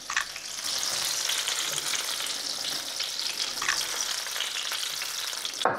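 Batter-coated apple rings fry in a pan of hot fat with a steady, fairly quiet sizzle that keeps going the whole time, with a few soft stirring sounds and no voices.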